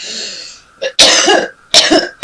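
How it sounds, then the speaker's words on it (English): Several harsh, loud coughs in quick succession from a person with a week-long bad cough, close by, following a brief throat-clearing rasp. "I've had a very bad cough for the last week, and now it's re-emerging."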